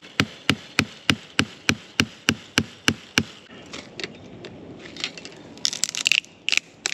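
About ten sharp, evenly spaced hammer blows ring out close by, followed by scraping and creaking metal as a crowbar pries staples loose from a fence.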